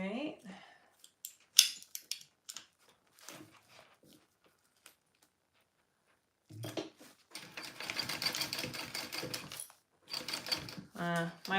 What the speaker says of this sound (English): Now I'm sewing the second one at the full seam allowance.